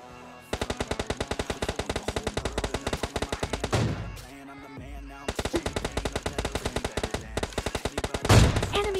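Rapid bursts of automatic gunfire in PUBG Mobile Lite, S12K shotgun and MK14 rifle, a loud sustained volley, a brief pause, then another long burst ending in a heavier hit.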